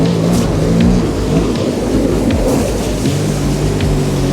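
A jet ski runs across a lake, its engine roaring loud and close with shifting pitch as the hull slaps over the water.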